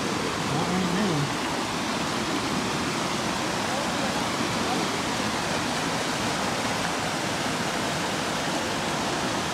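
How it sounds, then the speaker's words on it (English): Flood water from an overflowing pond rushes across a road in a loud, steady roar of churning water that holds constant throughout, with a brief faint tonal sound near the start. "The pond overflowed and washed across the road down here."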